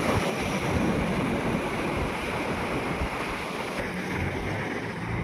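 Waves wash steadily onto the shoreline at a river outlet in Manukan Poblacion, a continuous broadband surf roar mixed with gusty wind buffeting the microphone, with no talking.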